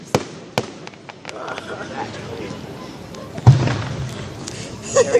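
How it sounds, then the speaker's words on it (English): Fireworks going off at an outdoor display in Putnam, Connecticut, with sharp bangs early and a louder thud midway, heard under people chatting nearby. "Scream at the fireworks."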